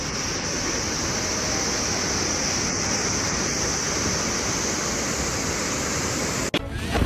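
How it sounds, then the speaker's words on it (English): Floodwaters tear across and wash out a roadway, a loud, steady broadband rush of churning water that holds unbroken for several seconds before a brief jolt near the end. "A roadway is washed away by floodwaters."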